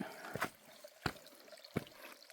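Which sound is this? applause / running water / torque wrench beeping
running water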